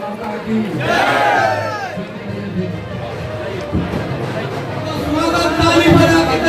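Crowd at an Indian political rally chanting "Bharat Mata ki" in response to a speaker, loud massed voices and cheering mixed with a leader's amplified calls.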